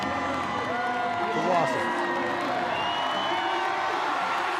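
Crowd noise from a women's deadlift ladder event at the Rogue Invitational 2023, a steady roar of cheering and shouts swelling briefly while a commentator talks over it.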